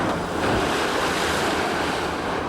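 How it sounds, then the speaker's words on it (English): A large circular wave surges across a pool after a 5-ton killer whale lands flat on the surface, heard as a loud, continuous rushing wash of water. "That circular wave is created by the massive impact of Shamu, the 5-ton killer whale landing flat out on the surface of the pool."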